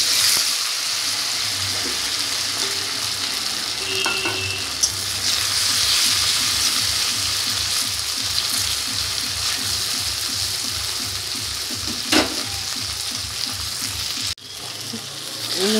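Kohlrabi pieces fry in white cooking oil in a pan, a steady loud sizzle and crackle lasting the whole stretch, with a few clinks of a utensil stirring now and then and no talking.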